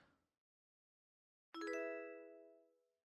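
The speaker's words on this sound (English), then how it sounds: "Oh, I gotta turn off the notification there." A single bright computer notification chime rings out alone in near silence, decaying smoothly over about a second and a half, after a brief trailing voice.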